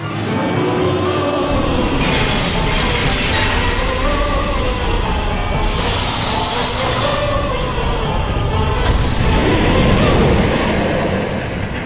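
Pillars of Fire pyromancy erupts during a Dark Souls boss fight, with repeated roaring, rumbling bursts of fire and crashing impacts in a loud, continuous wash of sound.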